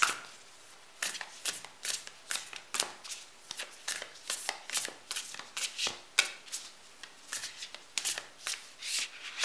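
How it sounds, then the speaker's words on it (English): Oracle cards are shuffled by hand up close, giving repeated quick riffling, slapping bursts in an irregular rhythm throughout, with no talking. "For those of you not going on to that reading, I'm going to pull some oracle cards"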